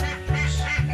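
Ducks quack repeatedly in a meat duck pen, a close, steady run of nasal calls with no one talking.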